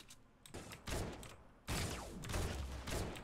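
Thermal scoped rifle firing in Fortnite: a string of loud, sharp gunshots in quick succession, several close together, with bursts around the middle and a heavier run of shots toward the end.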